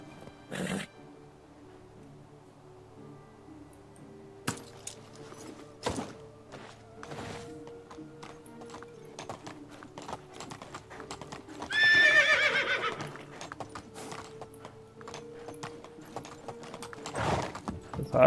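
Horse in the medieval video game Medieval Dynasty, a loud whinny midway with scattered hoof clip-clops and thuds before and after, over a quiet background.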